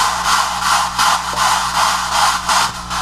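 Bright, noisy synth screech chopped into even quarter-note pulses by an LFO shaper, throbbing on and off in a steady rhythm over a low sustained hum, loud and continuous with no voice.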